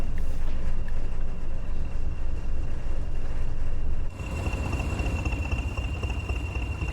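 A Class 20 diesel locomotive engine running with a steady low throbbing chop, loud and continuous, shifting to a harsher, busier tone partway through.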